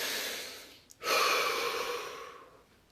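One deep breath during a guided relaxation exercise, a quick sharp inhale followed by a long, soft, airy exhale that slowly fades, close and quiet.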